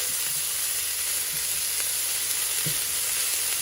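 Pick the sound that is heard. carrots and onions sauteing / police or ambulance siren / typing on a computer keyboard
carrots and onions sauteing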